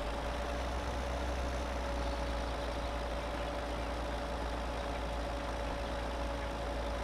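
A tractor engine runs at a steady idle-like drone while mulching in Farming Simulator 17, a constant low hum with a whining tone held throughout, unbroken and moderately loud with no talking.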